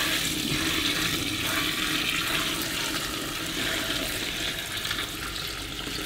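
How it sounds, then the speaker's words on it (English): Water from a bucket gushes into a collapsible washing machine tub in a loud, continuous rushing pour close by, slowly easing toward the end, with no talk. "when this bucket's full, it means I've added 15 litres of water to the machine"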